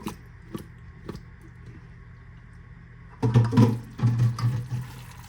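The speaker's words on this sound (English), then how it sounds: "So I'm taking my Sweet Baby Ray bottle and rinsing it." A Sweet Baby Ray's barbecue sauce bottle is rinsed with water: a few faint knocks, then a burst of sloshing and gurgling water in two close pulses, with no talking.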